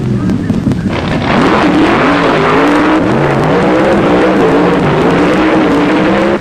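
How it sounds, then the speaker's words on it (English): Nitro-fuel drag racing cars roar loudly down the strip, a harsh, rising engine howl with pitch climbing as they accelerate away, continuous and close, with crowd or announcer noise faintly underneath. "In this run with the nitro fuelers, Danny Wanger, driving for the Hot Rod Shop,"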